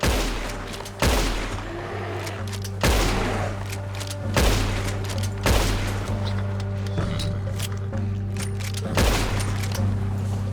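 Gunfire aimed at a bear in the Red Dead Redemption 2 video game: about six loud, booming shots spaced a second or two apart over a steady low rumble of in-game ambience.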